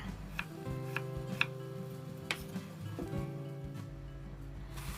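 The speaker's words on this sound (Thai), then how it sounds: "ปอกมันฝรั่งล้างให้สะอาดแล้วก็หั่นเป็นชิ้นเล็กเท่าๆกันค่ะ" A kitchen knife chops peeled potatoes into small, even pieces on a cutting board. The soft, separate taps come at a loose, regular pace and sound quiet and close, with faint tonal kitchen background behind them.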